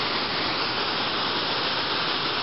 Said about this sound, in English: Here's our waterfall